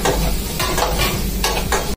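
Cauliflower being stirred in a hot pan for veg paneer fried rice, loud continuous sizzling broken by rhythmic scraping sweeps of a spatula, close up with no voices.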